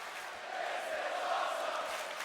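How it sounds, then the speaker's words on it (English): A wrestling arena crowd roars and chants together in a sustained, dense swell of many voices that rises slightly in the middle, heard from within the venue. "The crowd begins to chant"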